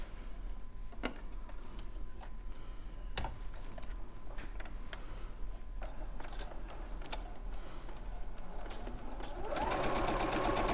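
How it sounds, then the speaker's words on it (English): A sewing machine runs a seam on a sashing strip for a quilt kit, a steady fairly loud whir that swells toward the end, with scattered clicks and light handling noise and no talk. "So I'm just going to do this seam, and that will be my sashing strip complete."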